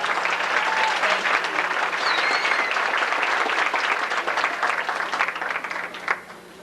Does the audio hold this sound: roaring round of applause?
yes